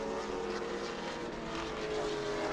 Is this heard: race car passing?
yes